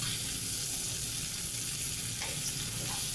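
Thick beef short ribs sizzle on a grill in a steady, dense hiss with small pops and crackles, constant and close throughout with no talking.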